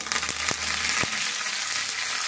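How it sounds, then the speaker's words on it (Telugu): Steady hot-oil sizzling of a tempering with curry leaves and turmeric fills the clip, with a few sharp clicks or pops of spices crackling in the pan. "అంతా కూడా మంచిగా ఇట్లా తాలింపు అంతా ఇట్లా వేగాలి మంచిగా"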